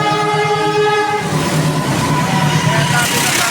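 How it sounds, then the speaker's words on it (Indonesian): Kertanegara passenger train on the Malang–Purwokerto route passing level crossing JPL 286A near Kediri, a steady loud rumble with horn-like tonal lines early on and continuous wheel noise throughout. "Kereta api Kertanegara melintas di JPL 286A"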